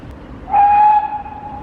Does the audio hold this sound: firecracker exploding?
no